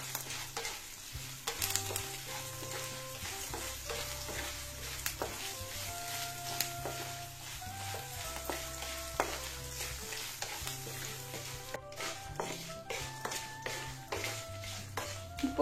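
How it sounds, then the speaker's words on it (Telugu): Tempering of green and dried chillies frying in oil for raw-tamarind pulihora, a steady sizzle with repeated scraping stirs of a spoon against the pan, close and continuous. "పోపు అంతా వేగిపోయింది కదండి."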